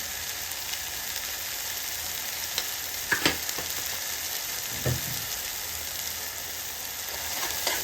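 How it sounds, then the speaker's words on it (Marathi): Chhole masala fries in oil with salt over medium heat, a steady close sizzle with a few spoon taps and scrapes as it is stirred. "एकदम मीडियम गॅसवरती आपल्याला हा जो मसाला आहे तो व्यवस्थित परतून द्यायचा."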